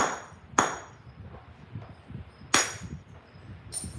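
Obsidian is struck during flintknapping to bevel the edge. Three sharp, ringing clicks come at uneven intervals over quiet handling noise.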